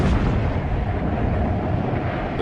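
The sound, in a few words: anti-aircraft fire at low-flying WWI bombers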